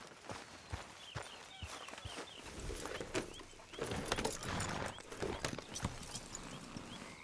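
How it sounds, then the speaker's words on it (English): Steady clip-clop of horse hooves walking at an even pace in the video game Red Dead Redemption 2, fairly close, with faint jingling of tack and no talking. "Grab your horse and let's go."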